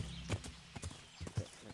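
Horse hooves clip-clopping in the medieval video game Kingdom Come: Deliverance, a steady series of sharp, fairly close hoofbeats with no talk over them.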